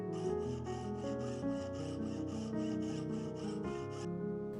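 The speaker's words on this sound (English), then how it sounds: "I went in with my tiny hand files and dug little divots into the ring band" Small hand file rasps at a ring's support bar, giving a steady series of about ten quick, close strokes in an even rhythm, with no voices.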